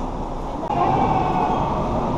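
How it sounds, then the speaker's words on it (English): Low, steady rumble of a train rolling into a station, with a rising mechanical hum and rail noise filling the space. "our train is here"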